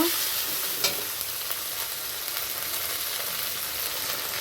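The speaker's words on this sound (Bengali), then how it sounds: "পেস্ট করা আদা জিরে লঙ্কা এই মাছের মধ্যে মশলাটা ভালো করে কষিয়ে নেব" A paste of ginger, cumin and chili fries with prawns in a pan, giving a steady, close sizzle punctuated by a few sharp stirring scrapes, with no talking.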